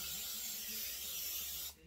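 A steady hiss of cooking spray from an aerosol can onto a baking pan for cinnamon raisin bread, lasting almost two seconds before cutting off.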